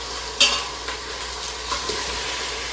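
Turkey sears in an Instant Pot just after being flipped, giving a steady broadband sizzle with a sharp clatter near the start and a few light utensil taps later, no voices.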